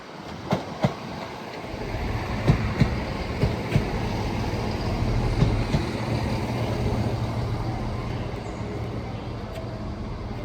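Class 172 diesel multiple unit arriving at Derby station on the Midland Main Line, a steady rumble and rolling wheel noise with several sharp clicks of wheels over rail joints, loud and close throughout.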